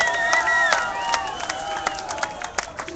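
An evening gathering for ATSA erupts in crowd cheering, with whoops and shouted voices over scattered claps in a lively, continuous roar that holds steady for three seconds.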